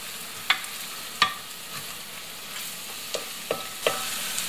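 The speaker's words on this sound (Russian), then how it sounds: "Пусть оно обжаривается." Soft sizzling in a pan with several sharp clinks of a utensil stirring, scattered irregularly over steady background hiss.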